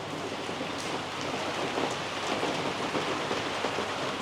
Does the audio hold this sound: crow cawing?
no